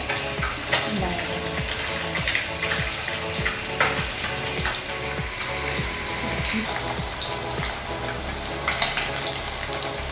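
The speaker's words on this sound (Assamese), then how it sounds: "মাছখিনি এতিয়া ভজা হৈ গৈছে।" Fish pieces fry in hot oil with a dense, continuous sizzle and crackle, close and fairly loud throughout, with rhythmic scraping sounds underneath.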